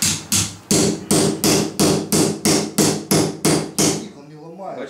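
Hammer blows on a steel file to break it, about a dozen loud, evenly spaced metallic strikes in a steady rhythm, then a brief faint voice as they stop.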